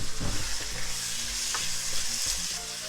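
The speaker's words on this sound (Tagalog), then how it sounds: "gigisahin lang natin ang ating ground pork" Ground pork with garlic sautéing in a frying pan, giving a steady loud sizzle and crackle close by, with occasional scrapes and stirring knocks.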